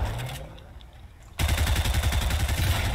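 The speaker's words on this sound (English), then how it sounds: "Oh, they changed the firing sounds for this gun" Rapid automatic gunfire from a gun in a video game, with a newly changed firing sound: a quieter stretch of faint shots gives way to a loud, dense burst of repeated shots that continues steadily to the end.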